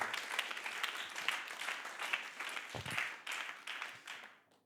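Church congregation applauding at a French-language Sunday worship festival, a steady wash of many hands clapping, fairly loud and continuous, swelling and fading slightly before tapering off at the end.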